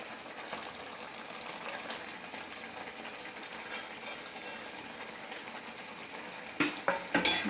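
A fried egg goes into a boiling potato and egg curry gravy, which bubbles softly and steadily, and a few louder utensil knocks and scrapes land near the end.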